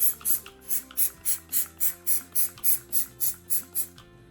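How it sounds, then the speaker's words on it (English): Degreaser sprayed from a trigger bottle onto the dirty cyclone filter of an xTool AP2 air purifier: about a dozen quick, evenly spaced spritzes close by, with a low steady hum underneath and no talking. "I'm just gonna spray down kind of in the general area"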